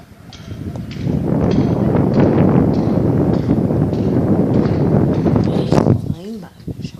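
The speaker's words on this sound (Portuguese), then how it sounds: "Ó, pra vocês verem como tá vento." Strong wind gusts roar across an outdoor microphone in a continuous rumbling buffet lasting several seconds, easing near the end as a voice briefly speaks.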